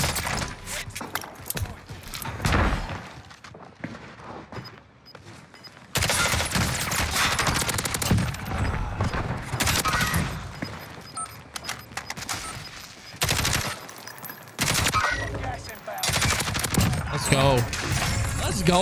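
Automatic and SMG gunfire in the Warzone battle royale, including a Kilo 141 SMG, in dense loud bursts and sustained volleys with brief gaps, close and continuous through the stretch.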